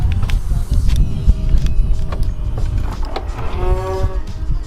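A BMW E36 M3 locks with a few sharp clicks and clunks, then its power windows hum shut close by, a rising whine building toward the end.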